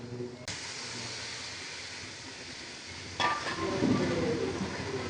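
Rohu fish roe goes into a pan of hot spiced oil, and a faint steady hiss sharpens into a louder sizzle as the roe lands, with a light metallic clink as it is tipped in.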